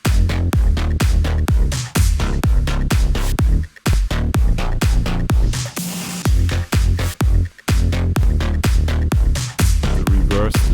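Punchy electronic drums drive a thick pulsing bass synth, loud and continuous, with a few brief dropouts and a short breakdown midway.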